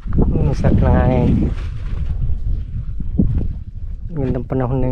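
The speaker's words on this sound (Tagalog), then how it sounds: "Sarap ng hangin." Wind buffets the microphone in low rumbling gusts while people talk over it outdoors at a fishpond.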